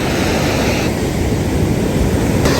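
Ocean waves roll in at a surf beach, a steady, loud wash of broadband surf noise continuing without a break.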